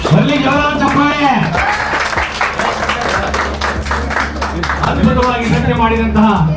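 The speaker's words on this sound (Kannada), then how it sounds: "ಬರಲಿ ಜೋರಾದ ಚಪ್ಪಾಳೆ" An audience at a film institute event bursts into dense, sustained applause that keeps going throughout, with amplified speech and music running over the clapping.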